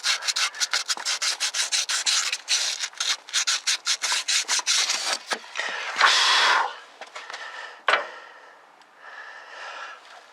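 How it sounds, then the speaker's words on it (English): Sandpaper rubbed over the timing marks on the engine of a 1969 Lincoln Mark III, a quick rhythmic rasping of short back-and-forth strokes close up, then a few longer steadier passes with brief pauses, with no talking. "I'm going to try to just sand on them a little bit, see if we can get them so they're legible."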